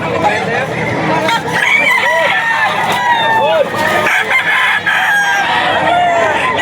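Black Spartan gamefowl roosters crow repeatedly at an auction market, several overlapping calls and clucks up close amid a busy crowd, with someone talking over them.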